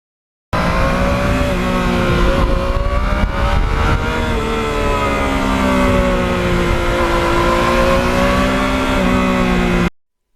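Yamaha MT-09 motorcycle engine droning and revving steadily while being ridden, loud and close with rising and falling pitch for about nine seconds, then cutting off.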